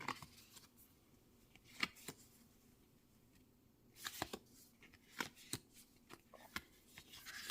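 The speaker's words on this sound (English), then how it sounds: "I'll have to shuffle this really well" Quiet tarot card shuffling: soft riffling and scattered sharp snaps of cards, with brief louder flurries spaced irregularly and no talking.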